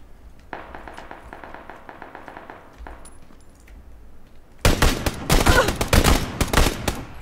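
Rapid bursts of gunfire ring out in a Battlefield video game, starting with a quieter rattling volley and ending in a loud dense fusillade of close shots.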